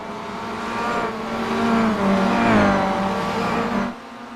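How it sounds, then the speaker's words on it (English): Race car engines in the iRacing sim roar loudly along a banked oval, a steady high-revving drone that swells and shifts pitch as the cars pass, then drops off sharply near the end. "So just gonna let you here listen to the engines as they roar down the oval style bank."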